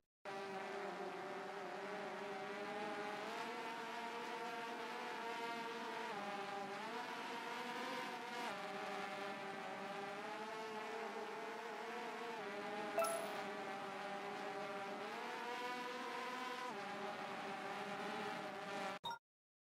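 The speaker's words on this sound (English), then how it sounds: "When cruise control is enabled, the aircraft will fly forward while maintaining its current speed even if pitch is recentered" A drone in the DJI Virtual Flight simulator game cruises forward with a steady, droning motor whine that holds an even pitch throughout, rising and dipping slightly, with no talk.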